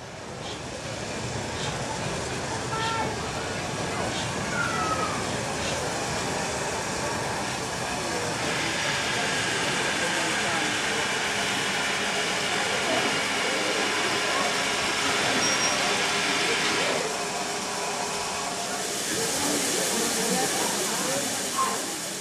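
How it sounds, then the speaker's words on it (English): An LMS 7F steam locomotive runs with a continuous broad hissing rumble and rail noise, loud and steady, with a brighter steam hiss swelling in the middle stretch and again near the end. "A much older class of LMS locomotive is the 7F."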